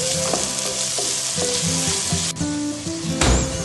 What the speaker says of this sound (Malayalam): 2 തക്കാളി ഇട്ട് നന്നായി ഒന്ന് വാടട്ടെ.